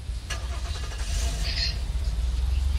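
A vehicle engine in a Roblox apocalypse game starts up and settles into a loud, steady mid-pitched idle rumble with a short clatter at the start, close and continuous.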